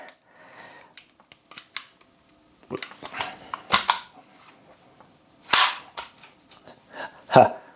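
A Sterling open-bolt gun's bolt slams forward several times when the weapon is bashed, giving sharp metallic clacks and snaps scattered irregularly with quiet gaps between them, loud and close, with no one talking.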